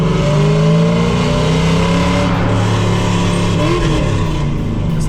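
A drift car's fresh engine revs hard and continuously while driving, loud and close throughout, with rising and falling tones as it accelerates and shifts. It sounds much like a Corvette.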